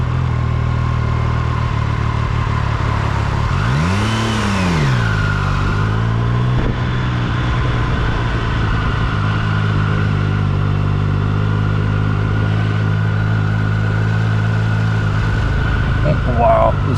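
Triumph Daytona 660 three-cylinder sport bike engine under way on the road, a steady mid-pitched drone with one clear rev rise and fall around the fourth second, constant wind and road roar beneath.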